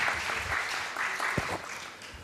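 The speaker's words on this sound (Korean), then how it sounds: "박수 한번 쳐주세요." A congregation at a Korean church service in Nagoya, Japan claps in moderate applause that is fairly quiet and rhythmic and fades gradually toward the end.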